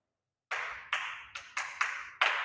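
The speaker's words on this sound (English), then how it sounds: "So please let's clap for him, please" Six distinct, evenly spaced claps ring out, crisp and close, following a moment of silence, with no talking.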